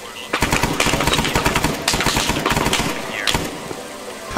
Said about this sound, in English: Oh, shots from the northwest.